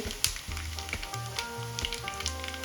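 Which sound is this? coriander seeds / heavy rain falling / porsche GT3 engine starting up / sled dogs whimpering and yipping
coriander seeds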